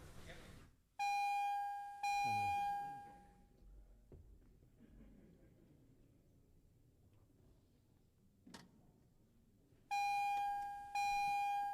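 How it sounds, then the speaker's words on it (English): Division bells in a legislative chamber ring in long, loud electronic bursts, starting and stopping abruptly, with quiet murmuring and room noise in the gaps between the rings. "The 1-hour time limit for the ringing of the division bells has expired."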